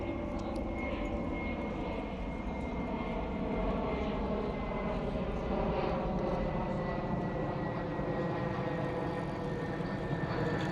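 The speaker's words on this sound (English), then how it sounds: "look at the aircraft that's coming. It's going to Heathrow" A jet airliner passes over Richmond, London, on its approach to Heathrow. Its engines give a steady, sustained roar that holds at an even level for about ten seconds.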